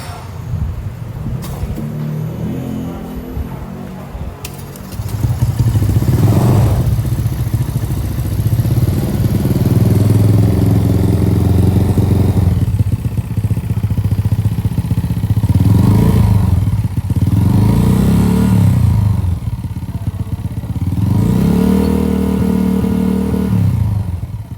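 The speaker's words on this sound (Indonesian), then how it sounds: "kita lanjut untuk cek sound dan tes starter lagi" A motorcycle engine with a freshly cleaned throttle body is cranked on the starter, then catches and runs loudly up close, idling with several rising and falling throttle revs.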